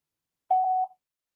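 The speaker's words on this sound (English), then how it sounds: "Leave a message at the beep and I'll get back to you." A single steady electronic voicemail tone on a business answering line, one clean sustained beep of about half a second, moderately loud against silence with no talk.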